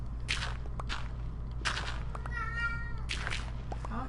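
A house cat meows a few times indoors, short mid-pitched calls spaced across a few seconds over a steady low hum, with faint footstep-like taps between them.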